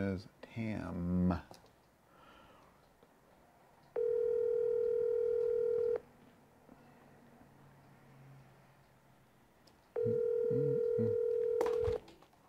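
An outgoing phone call to a real estate agent rings through a handset with two long, loud ring tones separated by a quiet pause, and a voice is heard briefly at the start.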